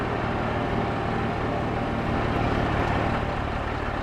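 Truck engine of a water tanker in the farming game Hills of Tuscany, a steady low mechanical drone running continuously and fairly loud with no talk over it.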